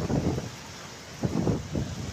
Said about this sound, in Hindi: ये बहुत तेज़ बारिश जो है यहाँ पे शुरू हो चुकी है